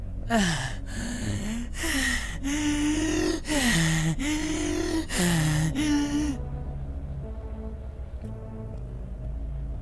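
A person being choked gasps for air over and over in a rapid series of strained, rasping breaths, loud and close, before fading to quiet breathing.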